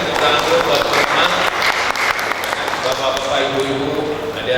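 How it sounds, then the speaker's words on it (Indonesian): An audience at a community seminar on digital fraud claps for participants, a continuous loud round of applause with voices and talk mixed underneath. "tepuk tangan dulu buat teman-teman"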